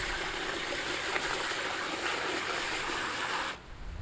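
Water is poured and swirled with ash from burned IC chips during gold and silver recovery, a steady close sloshing rush that stops abruptly near the end.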